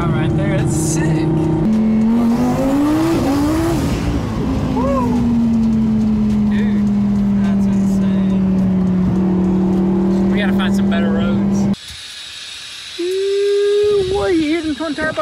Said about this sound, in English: I think it actually upped the horsepower because that was just an insane launch that we did